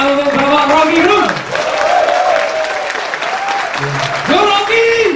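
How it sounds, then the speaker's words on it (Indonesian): An audience at a university talk in Ponorogo applauds and cheers, with loud, sustained clapping under raised voices and calls from the crowd and a speaker talking over it. "tepuk tangan untuk Bapak Rocky Gerung"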